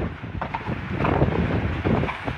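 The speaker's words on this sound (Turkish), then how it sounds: "Rüzgar esmeye başladı." Stormy wind gusting steadily in a rural village, a broad rushing roar buffeting the microphone for the whole stretch, fairly loud and unbroken, with no voices over it.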